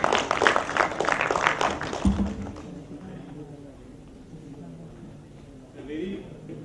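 Dense audience applause for Dr. Bikram Das fills a conference hall at IEEE SILCON 2024, loud and continuous for about two seconds before breaking off sharply into quieter room sound and speech.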